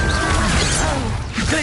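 An Incendio fire spell cast during combat in Hogwarts Legacy bursts out as a loud, crackling whoosh and crash that fills the short moment, set over a dense game soundscape.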